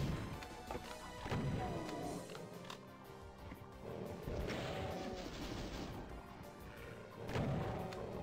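Doom II rocket explosions and combat: repeated heavy crashes and booms in bursts, with a loud blast at the start, more at around one and a half, four and a half, and seven seconds, over a dense, noisy game din.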